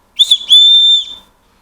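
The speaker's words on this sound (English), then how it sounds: "Oh, it's got a whistle." A small plastic whistle attached to the lanyard of a Zippo plasma arc lighter is blown twice, a short shrill chirp and then a longer piercing blast, loud and close with no talk.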